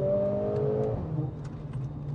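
A Mercedes-AMG A45 S four-cylinder car engine revs briefly and settles into a lower drone, fairly faint and heard without speech.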